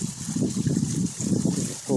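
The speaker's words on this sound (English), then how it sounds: "there's the one of the waterfalls in a stream" A garden pond waterfall and stream trickle and splash steadily into a 1,000-gallon goldfish pond, the water sound sitting beneath someone talking close by.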